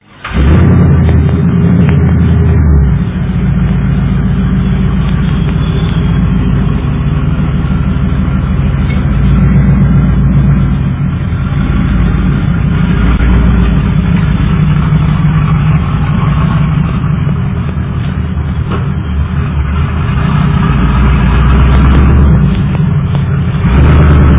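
A crash-damaged Yukon SUV is driven a short way to a garage, its engine rumbling loud and close throughout with slight rises and falls, under heavy low wind-like roar and no speech.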